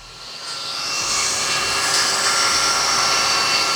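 A FlashForge Adventurer 5M 3D printer runs loudly with a steady broadband fan-like whoosh that swells over the first second, then holds a constant, close, droning roar with a faint high whine on top.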